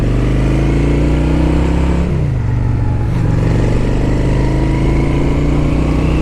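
A 2008 Honda Shadow 750 motorcycle engine drones steadily and loudly while riding, its low rumble dipping briefly as the rider shifts, then settling back into an even cruising hum.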